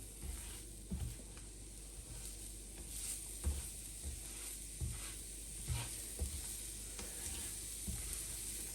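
Garlic sizzles steadily in a hot pan for carbonara sauce, with a utensil stirring and scraping it at intervals of a few seconds, close up with no talking.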